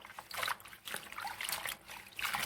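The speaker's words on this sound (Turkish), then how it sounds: "Şimdi güzelce suyun içerisinde şöyle döndüre döndüre yıkayacağım" Parsley is washed by swirling it in a bowl of water, giving soft repeated sloshing and trickling surges, close and fairly quiet.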